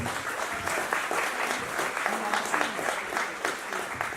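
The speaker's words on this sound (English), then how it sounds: "One more round of applause for them," An audience at a Q&A session gives a round of applause, steady mid-level clapping from a crowd heard at some distance throughout.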